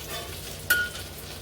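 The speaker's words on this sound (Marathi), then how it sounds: "या मसाल्याला छान आता तेल पाणी टाकून शिजवू म्हणजे तेल सुटेल त्याला" Faint sizzling of green masala frying in oil and water in a kadhai, with a soft stir and a brief metallic clink midway.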